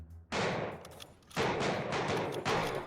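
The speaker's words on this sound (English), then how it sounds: "and then they're shooting me" Enemy gunfire in the video game MAXIM, two dense bursts of rapid shots, loud and close, separated by a short lull, with no voices.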